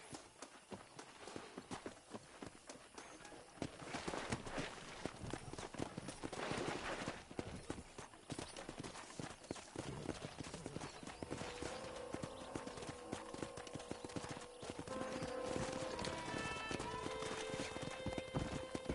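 Hooves clatter rapidly and continuously as horses gallop in the video game Red Dead Redemption, with an occasional whinny rising over the steady drumming, fairly faint overall.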